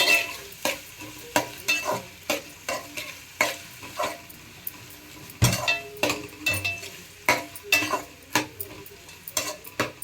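Chicken and ginger garlic paste being stirred in a pot for chicken dum biryani, with repeated scraping spoon strokes in a steady rhythm over a light sizzle, close and clear, with no talking.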